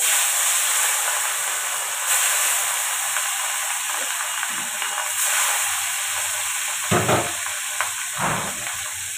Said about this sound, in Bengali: আর এখানে এখনো এই মাছগুলো আছে, আমি এটা ভাজছি